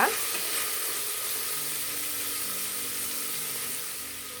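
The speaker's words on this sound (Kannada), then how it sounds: "ಇದು ಅಷ್ಟೇ ಒಂದು ಸ್ವಲ್ಪ ಎಣ್ಣೆಯಲ್ಲಿ ಫ್ರೈ ಮಾಡ್ಕೊಳ್ಳಿ" Tomato frying in a little oil for palak sambar, a steady, close sizzle with a faint hiss running evenly throughout without pause, no voices.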